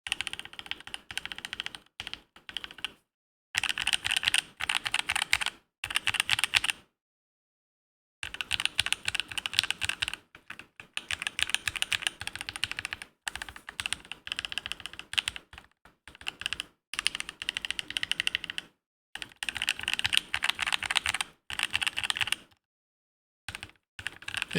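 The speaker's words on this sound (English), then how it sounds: "is my first all acrylic keyboard. I don't think I've ever used an acrylic keyboard. It does sound pretty nice." Clacky typing on an all-acrylic ortholinear keyboard with DSA Astrolokeys keycaps, dense bursts of keystrokes broken by short silent pauses, close and fairly loud with no talking.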